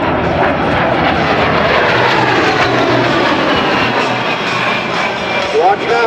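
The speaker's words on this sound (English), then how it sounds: "the A10 Thunderbolt 2." Loud, continuous roar of an A-10 Thunderbolt II (Warthog) jet flying at the 2010 Singapore Air Show, a steady broadband rush that persists throughout with a commentator's voice faintly mixed in.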